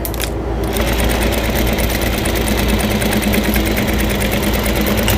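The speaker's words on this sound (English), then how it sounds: "I'm going to top stitch down both sides of the long sides of this" A sewing machine top-stitches the long sides of a fabric towel hanger at stitch length 4, its loud, rapid, steady mechanical hum and needle clatter running close and unbroken.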